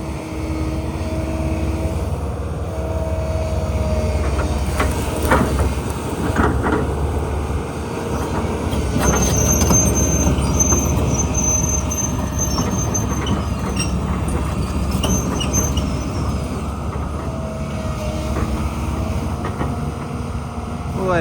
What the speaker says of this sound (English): I'm gonna come over here and pull the Cedar out.